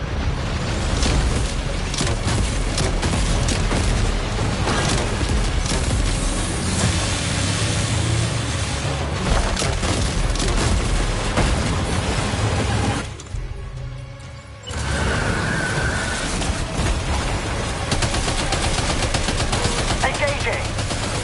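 Loud, dense gunfire in Death Stranding 2, rapid bursts layered over constant combat and engine noise, cutting out briefly for about a second before the barrage resumes.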